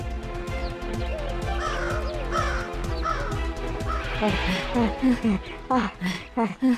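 A crow caws several times, the harsh calls rising and growing louder and more clipped toward the end, heard over a busy background of voices and other sound.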